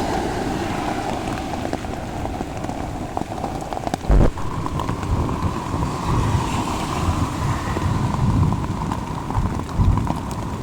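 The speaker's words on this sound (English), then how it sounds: "Every time the thunder comes, it starts shaking, and that's coming water on the camera" A thunderstorm outdoors with rain pelting the camera, heard as dense close drumming and splattering that never lets up, with one sharp knock partway through and low rumbling underneath.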